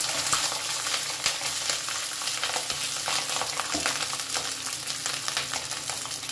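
Rice crackles and sizzles steadily in a hot pan with fried vegetables over low flame, a dense hissing fry with small pops, close and continuous with no talking.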